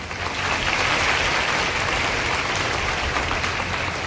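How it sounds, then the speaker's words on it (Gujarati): A crowd applauds teachers at an event in Bodeli, the sustained clapping filling the room steadily for a few seconds with no talk. "ખાસ એ શિક્ષકો માટે તાળીઓ પાડો"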